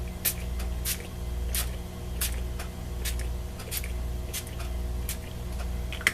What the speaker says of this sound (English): This is my Lindy spray.